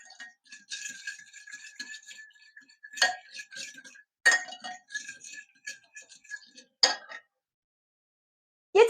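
A spoon stirs salt into a lavash dough mixture in a bowl, giving close, rapid clinks and scraping rattles in several bursts separated by short pauses.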